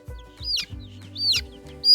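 Hen squawking and screeching loudly up close in a spring garden setting, with a few sharp rising cries mixed with lower clucks.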